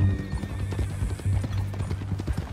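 Horse hooves clip-clop at a steady walking pace in Red Dead Redemption 2, a continuous close rhythm of hollow knocks layered over a low ambient hum and background game sound.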